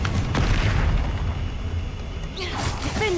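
Confringo spell blast in Hogwarts Legacy, a low rumbling boom that rolls out and fades, followed by rising whistling magic effects.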